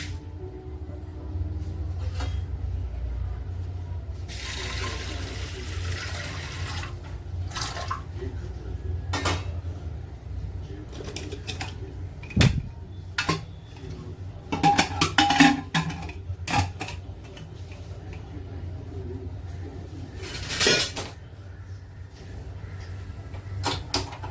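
A pressure cooker pot and kitchen utensils are handled while toor, moong and masoor dal are set to cook, with scattered close clanks, knocks and clatters over a low, quiet background.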